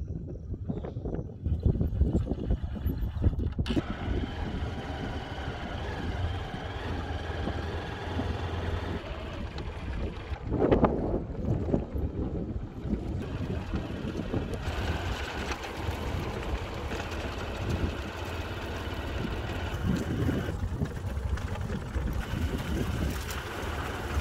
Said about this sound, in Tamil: இந்த இடம் சிறிய மீன்பிடி துறைமுகம்